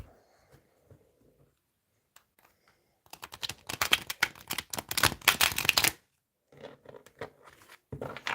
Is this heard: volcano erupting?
no